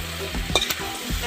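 Meat cooked with ground spices, chilli, ginger, garlic and cumin is stirred in a sizzling pan. A utensil scrapes and clatters in brief strokes over a steady fry hiss, up close, with no voices.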